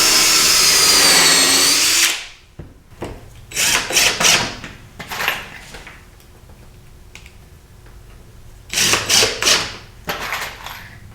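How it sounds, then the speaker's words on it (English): Power drill driving screws into wood while assembling bent laminated lower rails for a dining table, heard as several short whirring bursts in a quiet workshop after a louder stretch of noise, with no talking. "And then I'm going to put some screws in."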